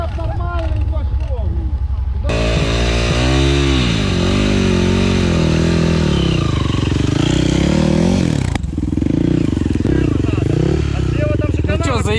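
A quad bike (ATV) engine revs loudly off-road, its pitch rising and falling through repeated throttle changes, close up, with people talking over the engine noise.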